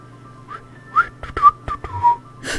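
A person whistles a short, wavering tune of a few breathy notes and slides, close by and alone, with a brief louder burst at the end.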